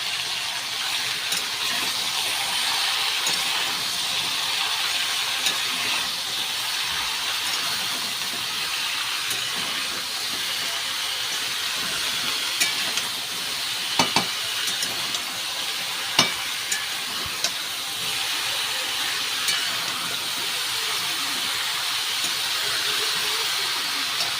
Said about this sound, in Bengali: নাড়াচাড়া করে হালকা হালকা একটুখানি সেদ্ধ হয়ে যাবে আর একটু ভাজা ভাজা টাইপের হয়ে যাবে